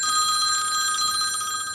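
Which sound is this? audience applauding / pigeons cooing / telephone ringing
telephone ringing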